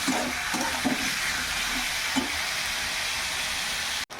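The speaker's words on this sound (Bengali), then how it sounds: "এবার এইভাবে কষিয়ে নেব।" Chicken pieces with spices sauté in a small amount of oil for a chicken stew, giving a steady, close sizzling hiss with a few soft stirring bumps early on.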